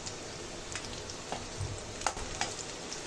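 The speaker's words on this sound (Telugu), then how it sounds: "ఇది కూడా కొంచెం ఫ్రై చేసుకోవాలండి" Cumin seeds and black pepper fry in a pan as tempering for kattepongali, a quiet steady sizzle with occasional faint pops and soft stirring taps.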